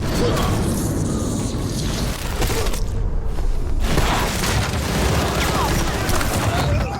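Dense, continuous gunfire crackles and booms throughout, loud and chaotic, with bursts overlapping and a brief dip in the middle.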